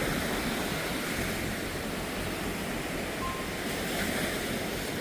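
Ocean surf on a white sand beach at Fort Pickens, Florida, a steady loud roar of breaking waves with wind buffeting the microphone, no voices.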